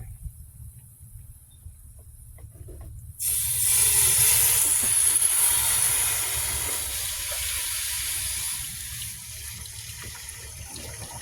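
Coolant and debris suddenly gush out of a Ford Focus engine during a heater core and engine flush, a loud, steady hissing rush that continues strongly, then eases slightly while still pouring.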